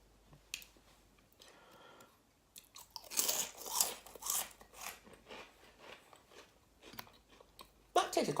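Close crunching and chewing of sour cream and chive chips, a run of crisp bites and rustles that grows busier midway, with a voice speaking around the eating.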